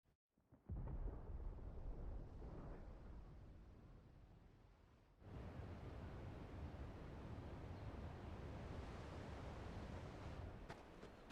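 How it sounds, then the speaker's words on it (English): Thunder in the video game Final Fantasy XVI: a deep rolling rumble that rises, dips briefly, then swells again into a long sustained roar, with no talking. "Sounds like thunder."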